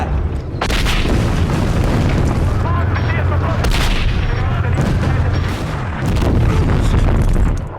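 A supporting artillery barrage in a World War II battle scene: heavy, rumbling booms and blasts rolling continuously and loud, with shouted voices mixed in.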